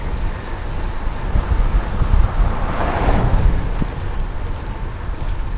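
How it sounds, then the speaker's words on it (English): Steady wind roars across a microphone outdoors during a night bike commute, a continuous broadband rush with low buffeting gusts that swell and ease, close and fairly loud, with no talking. "Woo, it's windy."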